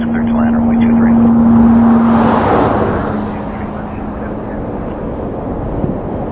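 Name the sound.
Air Canada airliner landing at Toronto Pearson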